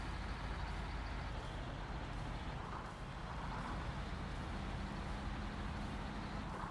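Steady truck engine rumble from the SnowRunner video game, a continuous dense drone with a faint glitchy, stuttering texture running unbroken throughout.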